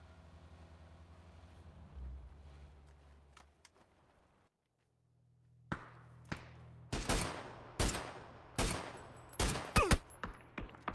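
Rifle shots crack out in a PUBG match, starting quiet with a few distant pops, then a string of loud, sharp single and clustered gunshots near the end over low ambient wind.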